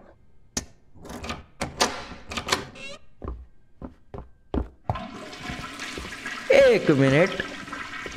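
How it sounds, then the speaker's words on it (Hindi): A toilet flushes in a horror video game, a sudden rushing, gurgling swell of water in the later half, preceded by footsteps, door clatter and someone talking. "कुछ फ्लश करने की आवाज आ रही है"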